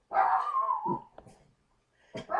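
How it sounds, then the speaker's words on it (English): Dogs bark indoors, with a long drawn-out yowling bark, a few shorter yips, a brief pause, then another close, sharp bark. "Sorry, my dogs are barking."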